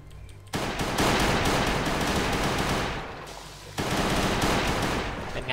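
Pistol fire in the survival game Last Day on Earth, coming as two loud, sustained stretches of rapid shots separated by a brief lull.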